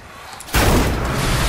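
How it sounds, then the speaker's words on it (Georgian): A sudden loud explosion in the video game Dead Island 2, a heavy boom that bursts in and rumbles on without fading. "აფეთქდა რაღაცა."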